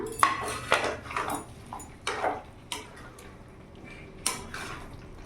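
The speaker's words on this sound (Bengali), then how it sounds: "এবার এর মধ্যে ভেজে রাখা আলুগুলো আমি দিয়ে দিলাম।" Fried potatoes are tipped into a pan of chicken bhuna, giving a series of close, sharp metallic clinks and scrapes of a spoon against the pan, with no talking.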